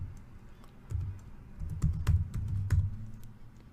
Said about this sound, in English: once you're done typing in your command